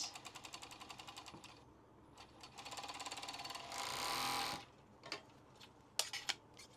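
A sewing machine runs zigzag stitching around the outer edge of a fabric tissue pouch in rapid rhythmic bursts, pausing between runs, with a few sharp clicks and clunks near the end, close and fairly quiet.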